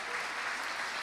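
A congregation claps for Jesus at a church sermon, a dense, steady wash of applause that fills the whole short moment without a break.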